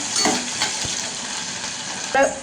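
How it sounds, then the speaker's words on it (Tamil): Ingredients for tomato rice sauté in a hot pan with a steady, close sizzle, broken by the scrape and knock of a spoon stirring against the metal. "நல்லா வதக்கிக்கலாம். நல்லா கலர் மாறணும், அப்போ தான் கொஞ்சம் டேஸ்ட்டாக இருக்கும்."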